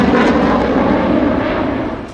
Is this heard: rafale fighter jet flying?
yes